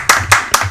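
A small group claps briefly in three short bursts at the start of a French Fallout tabletop role-playing session, close and fairly loud.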